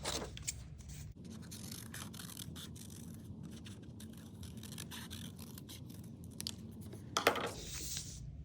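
Scissors snip through paper to cut out a drawn oval shape for an art project, a quiet run of small crisp cuts close to the microphone with a few louder clicks near the end.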